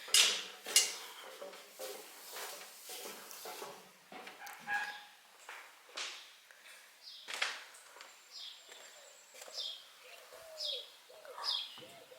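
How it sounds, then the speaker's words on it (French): Small birds chirp and trill in short, scattered phrases, fairly faint against a quiet background, with a few sharper calls early on. "on entend les petits oiseaux qui chantent"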